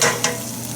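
Balsamic vinegar chicken marinade sizzles and bubbles vigorously as it boils in a hot pan, a steady close crackling hiss with a brief stir partway through.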